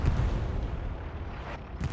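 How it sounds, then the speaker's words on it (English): Several explosions go off during a tank battle in a video game, forming a dense, deep booming rumble that stays loud and continuous for the whole moment. "And we just see several explosions."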